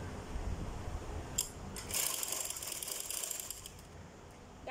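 Sewing machine stitching along the bottom edges of a baby girl's scarf, a steady close mechanical whir with faint ticking and clicking of the mechanism, no talking.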